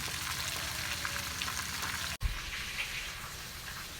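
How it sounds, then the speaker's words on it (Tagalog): Tilapia frying in a pan, a steady close sizzle and crackle that runs throughout, briefly interrupted by a sharp thump or knock midway, then continuing. "Piniprito ko na po yung tilapia"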